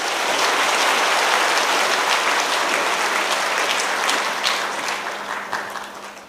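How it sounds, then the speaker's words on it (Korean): A church congregation at a Sunday service applauds to welcome a pastor, a dense, even roar of clapping that holds steady and then begins to thin out toward the end, with a faint hum underneath. "우리 박수로 맞이해 주시기 바랍니다"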